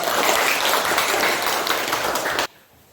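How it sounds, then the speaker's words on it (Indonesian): Audience applause at a teacher-training classroom session, dense and steady for over two seconds before stopping abruptly into near silence. "Beri tepuk tangan yang meriah."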